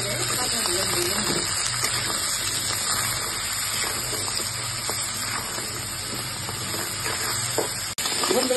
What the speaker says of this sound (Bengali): দেখুন আমি সুন্দর করে কাঁকড়াগুলি ভেজে নিচ্ছি